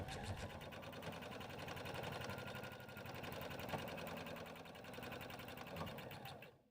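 Sewing machine stitching fast and evenly while basting a lining pocket onto lining fabric for a bag, a close rapid mechanical whir that runs continuously before stopping at the end, no talking.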